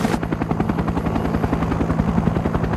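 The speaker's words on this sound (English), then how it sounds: "the helicopter, which is proven capable of operating in the midst of intense battle, will be an important weapon" A Vietnam War-era military helicopter thumps steadily and loudly, its rotor beating in a rapid, continuous rhythm with no voices.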